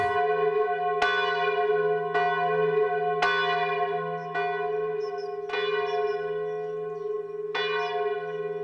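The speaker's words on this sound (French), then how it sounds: "je suis très heureux d'entendre sonner les cloches de temps en temps" A priory church bell in Orchaise, Loir-et-Cher, tolls slowly and regularly, each strike ringing out with long resonant overtones under a steady low hum, about one stroke per second.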